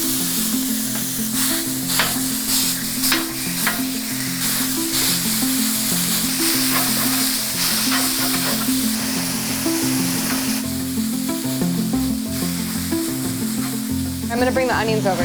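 A beef patty and onions sizzle loudly on a hot griddle for a chopped cheese sandwich, a steady close hiss over music, with someone talking briefly and a few spatula scrapes.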